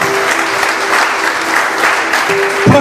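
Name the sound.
church congregation applause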